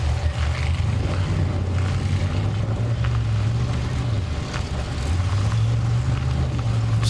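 Four-cylinder front-wheel drive race cars racing on a frozen lake, their engines droning steadily and rising and falling in pitch as they pass at a distance under wind.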